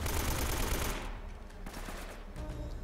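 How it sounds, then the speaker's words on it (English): Sustained machine gun fire in Uncharted: Drake's Fortune, a loud, rapid continuous burst for about a second, then scattered quieter shots and echoes under game ambience. "Oh, the machine gun."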